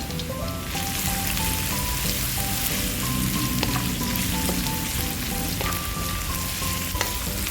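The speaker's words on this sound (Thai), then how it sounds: "ต่อไปเราก็จะเอาขิงลงไปเจียวนะคะ เจียวขิงให้หอมก่อนนะคะ" Ginger frying in a little oil in a wok, a steady dense sizzle with crackling and stirring scrapes throughout, loud and close, no talking.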